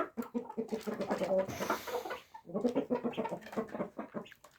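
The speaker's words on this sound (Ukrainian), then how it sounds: "самий старший півник" The oldest rooster on a home farm, about four years old, gives a run of repeated close clucking calls in two bursts with a short pause between.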